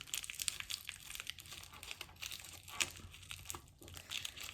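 A paper spell packet being folded and crinkled by hand, soft close crackling and rustling in short irregular bursts, quiet and without talk.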